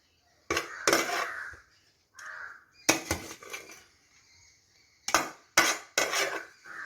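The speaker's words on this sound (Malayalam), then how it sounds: "ഈ പീര ചതച്ച് വെച്ച പീര വാരി ഇതിനോടൊപ്പം നമ്മൾ മിക്സ് ചെയ്യുകയാണ്." Crushed coconut and mango being mixed by hand in a vessel for a Kerala village-style jackfruit seed thoran, heard as bursts of scraping and rustling with short gaps between them, close by.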